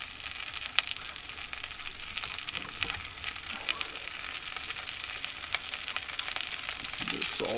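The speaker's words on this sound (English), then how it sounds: "Just throw it in the pot, basically like saute," Potatoes sautéing in a pot, a soft, steady frying crackle with scattered small pops and ticks, fairly faint and continuous with no talking.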